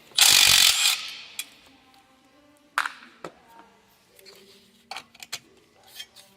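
A hand ratchet loosens two 10mm bolts on the intake manifold of a 3.6 Pentastar V6 engine, giving a loud opening burst, then short clicking ratchet bursts and metallic taps spaced out, close up.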